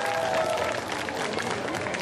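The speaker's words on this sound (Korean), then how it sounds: "다시 한번 박수 보내주시면 고맙겠습니다." Audience applause at a music festival awards event fills the space with a dense, continuous wash of clapping from a crowd, steady and fairly loud throughout.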